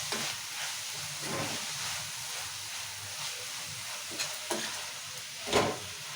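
A fenugreek leaf curry with turmeric and salt sizzles in a pan while being stirred, giving a constant frying hiss broken by a few scraping strokes and soft knocks, one louder near the end.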